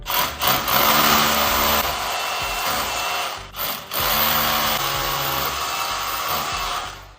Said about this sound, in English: now I can drill the holes with my hammer drill